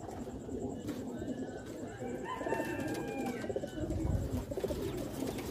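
Pigeons coo at a pigeon-flying contest in Faisalabad, their soft calls steady and moderately close over a busy, murmuring outdoor background with some faint voices.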